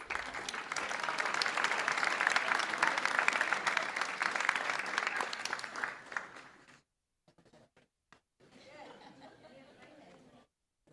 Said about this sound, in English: Let's give Jeff and Barron a round of applause.